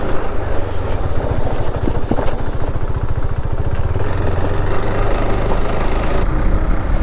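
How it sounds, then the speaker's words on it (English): Motorbikes roll up with engines running on a Kerala ride near Munnar, a steady low engine rumble with a pulsing idle throb through the middle, continuous and fairly loud, with no talk. "Rishabh and Manoj are just coming with their bikes"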